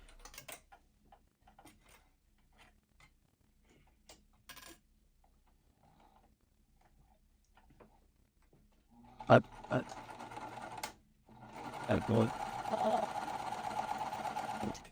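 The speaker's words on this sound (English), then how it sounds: "And then I'll bring that to the machine and sew all the way." Sewing machine joining quilt fabric pieces: scattered clicks and handling noises first, then a loud burst of fast stitching and a longer steady run near the end.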